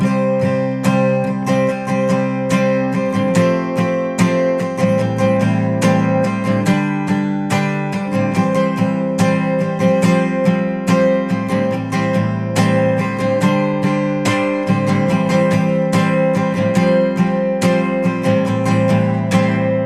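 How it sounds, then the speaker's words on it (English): Steady strummed acoustic guitar chords in a repeating eighth-note rhythm with quick upstrokes added, close and clear, no voices. "the cadence strum pattern. It takes the 8th note strum and just adds a little bit to it"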